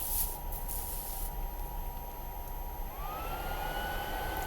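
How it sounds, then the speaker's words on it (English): An old computer's cooling fan whirs hard as a steady, faint broadband hiss with a constant tonal hum, continuous throughout with no talking. "Excuse the noise in the background, that's my fan working overtime"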